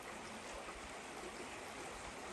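Steady broadband rushing of a small backcountry creek holding little brown trout, flowing continuously and close without pause, with no voices present.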